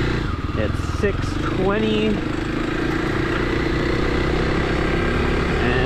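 A motorcycle rides off from a camp near Harrison West FSR, its engine humming steadily and revving as it pulls away, close by under a man's brief speech.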